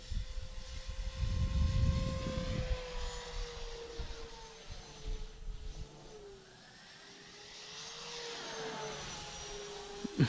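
A Turbo Timber Evolution RC airplane makes a high-speed pass. Its whining motor swells as it approaches, then sweeps past with a falling pitch, fades briefly, and builds again. There is a low rumble near the start and no talking.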